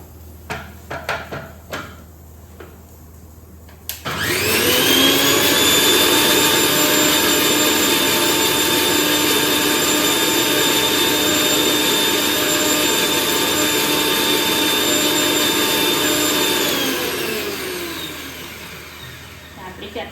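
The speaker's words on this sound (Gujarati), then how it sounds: "ફરી આપણે એને પીસી લઈશું." After a few clicks and taps, a mixer grinder grinding chutney whirs loudly at a steady high pitch for about thirteen seconds, then winds down.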